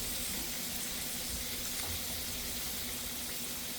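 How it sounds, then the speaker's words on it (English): Butter melting in a pot on the stove, a steady soft sizzle with faint crackle running throughout, fairly quiet and unbroken. "The butter's melting really fast."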